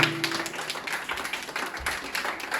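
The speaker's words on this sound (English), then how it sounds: "Clapping should be continued for him." A classroom audience at an English speaking practice academy claps for a student speaker, a quick, dense patter of hand claps at close range that keeps going throughout.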